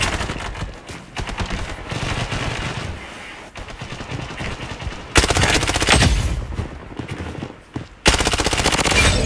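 Loud automatic gunfire rattles in the shooter video game Blood Strike, with long rapid bursts that intensify sharply partway through and continue under brief pauses.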